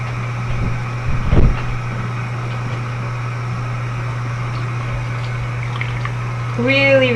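Water runs steadily from a tap at room temperature for soaking wool shorties, a constant rushing flow with a low hum beneath, briefly interrupted by handling noises and a short voice at the end.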